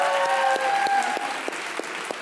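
Studio audience on a Pakistani comedy talk show claps warmly, a dense burst of applause that starts full and gradually thins into scattered, sharper claps as it tapers off.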